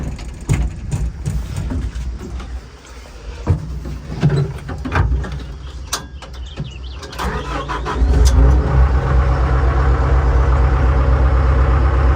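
A vehicle under repair is cranked and started after several clanks and tries, catching near the end and settling into a loud, steady idle close by.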